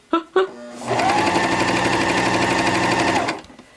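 A threaded sewing machine stitches in a fast, even run for about two and a half seconds, loud and close, after a couple of brief clicks.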